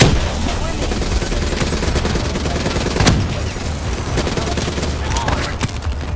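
Turret gunfire rattles in Call of Duty: Black Ops 3 gameplay, a dense continuous stream of rapid shots mixed with explosions and battle noise, loud throughout with a sharp blast near the middle.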